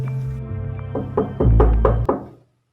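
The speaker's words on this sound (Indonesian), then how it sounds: "Yanto kembali kaget karena mendengar suara ketukan pintu itu lagi" Heavy knocks on a door as a sound effect in a horror story, a low rumbling lead-in followed by a run of five or six solid, resonant thuds that fade out.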